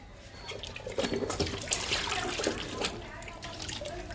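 Liquid feed trickles and splashes from a container into pots of indoor plants, including a croton, a steady pouring sound close by with soft bursts as the flow shifts.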